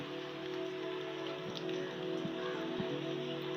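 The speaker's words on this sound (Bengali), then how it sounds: "বৃষ্টির পানি ক্যামেরায় পড়বে" Heavy rain drums steadily on a tin roof, a dense, continuous close patter with no break and no voices.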